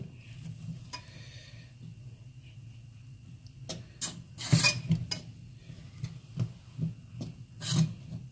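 A fork stirs and fluffs rice grains in a pot, making soft scraping and rasping strokes with a few sharper clinks against the pot, fairly quiet over a low background hum.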